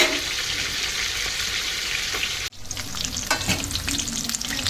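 Chicken pieces frying for mandi biryani while being stirred, a loud close sizzle broken by a sudden brief dip, then scraping and uneven crackling as the meat is turned.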